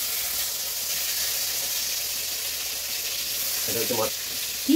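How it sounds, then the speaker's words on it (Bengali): Eggplant slices fry in fish oil in an iron wok, giving a steady, close hiss and sizzle throughout, with a brief clatter of utensils near the end. "মাছের তেলে বেগুন ভাজা"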